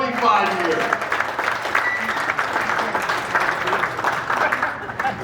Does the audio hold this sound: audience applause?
yes